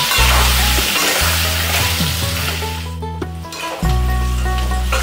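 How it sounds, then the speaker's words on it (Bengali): Potatoes frying in hot oil with salt and turmeric, a loud close continuous sizzle under a steady low hum, briefly dipping before swelling again. "তেলটা গরম হয়ে গেছে, এখন আমি আলুগুলো ভেজে নিচ্ছি।"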